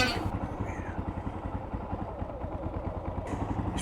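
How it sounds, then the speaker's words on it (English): An Armstrong Rotax MT500 motorcycle idling close by with a dragging clutch, a steady lumpy thumping beat with mechanical clatter throughout. "Bike is, the clutch is dragging, is trying to pull the bike forward."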